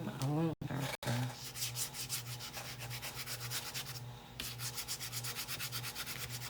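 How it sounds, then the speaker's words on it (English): Sandpaper rubs steadily across the painted surface of a Halloween Frankenstein bench insert, a close, continuous rhythmic scratching with quick back-and-forth strokes after a brief pause near the start. "I don't like to sand on my surface, but I need to get a little of these scragglies gone."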